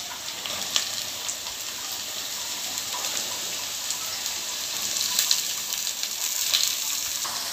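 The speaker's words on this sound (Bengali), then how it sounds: "মা এখন সবজিগুলো দিয়ে ওর সাথে হালকা ভেজে নেবে।" Mixed vegetables fry with small fish, onion and split green chillies in a pan, giving a steady, bright hiss of sizzling oil with scattered faint pops throughout and no voices.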